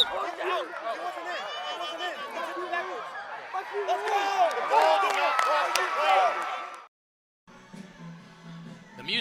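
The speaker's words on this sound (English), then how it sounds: "the crowd is filtering in" At halftime of a high school football game at Canamella Field, a crowd fills the stands with a dense murmur of many voices and scattered shouts, building louder before cutting out briefly and returning more faintly.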